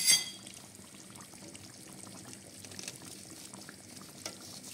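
Soaked local raisins tipped into a cooking pot with meat, giving a soft brief splash and patter at the start, then a low steady simmering hiss in the background.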